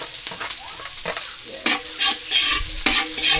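Onions going into a hot pan after golden-browned aromatics, a close crackling sizzle broken by repeated scraping stirs, getting busier toward the end.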